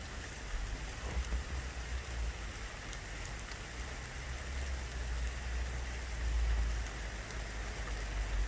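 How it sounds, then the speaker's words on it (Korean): Steady rain patters softly on grass and tree leaves, a dense, even hiss of falling drops with a faint low rumble underneath. "빗방울이 떨어집니다"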